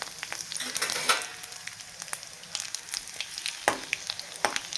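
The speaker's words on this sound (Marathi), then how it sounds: "आणि आत्ता घालूया ह्याच्यामध्ये बेडगी मिरची तर मी तुकडे करून घालते" Pieces of byadgi chili crackle in hot oil for a dahi tadka, a close, lively sizzle broken by frequent sharp spits and pops.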